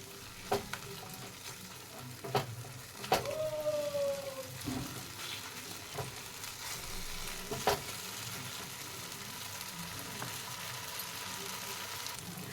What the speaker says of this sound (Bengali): এইভাবে আমি কাজুর পেস্টটা ভালো করে ভেজে নেব পেঁয়াজের সাথে।